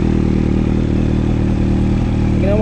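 A 2015 Kawasaki H2 motorcycle engine running loud and close, a steady throbbing roar with a slight rise in pitch near the end as the throttle opens.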